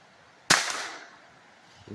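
A single rifle shot at an outdoor shooting session: one sharp crack with a short ringing tail that fades to quiet, then a faint soft thump just before the end.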